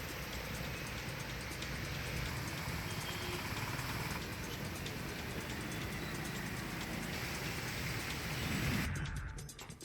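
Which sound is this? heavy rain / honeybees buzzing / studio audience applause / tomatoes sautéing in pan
heavy rain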